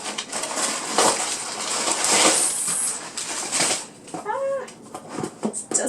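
Packing paper crinkles and rustles steadily up close as books are unwrapped, with a meow-like tone and clinking bits near the end.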